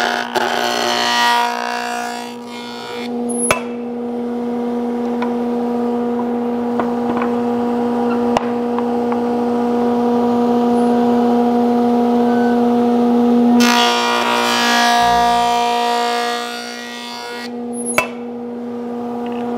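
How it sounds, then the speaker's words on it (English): Northfield 12 inch jointer in a woodshop: steady tonal motor whine and cutterhead hum that holds, then a burst of noise, then the motor winding down fairly quickly with a few sharp clicks. "On this machine, the motor should spin down very quickly."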